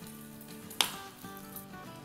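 Shami kababs fry in a pan over a medium-low flame, giving a soft, steady sizzle with one brief sharp tap, quiet and close with no talk.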